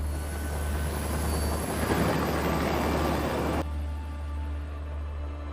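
A helicopter in the action film Extraction, a steady low engine and rotor drone that swells midway and then drops to a quieter, thinner hum.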